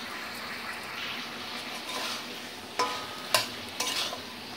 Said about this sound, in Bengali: নুনটাকে সবজির সঙ্গে ভালো করে মিশিয়ে নিচ্ছি।